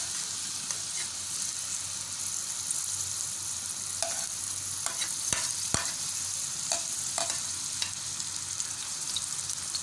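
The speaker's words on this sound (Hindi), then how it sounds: "ऑयल थोड़ा गर्म हो जाए फिर इसमें प्याज को ऐड कर देंगे।" Onions fry in hot oil, making a continuous close hiss with faint crackles and a few soft clicks of a utensil against the pan. No one speaks.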